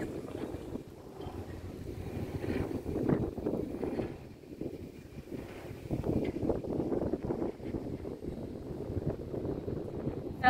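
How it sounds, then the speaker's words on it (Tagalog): Strong wind at the Asia Brewery grounds in Canlubang buffets the microphone in a steady, rumbling roar that swells and eases in gusts, with no clear talk over it. "Grabe, ang lakas ng hangin."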